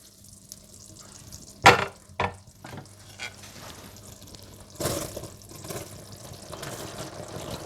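Thick, wet stirring of boiled rice into sugar syrup in a pot for carrot zarda, with a few sharp scrapes and sloshes against the sides and a faint sizzle beneath, no talking.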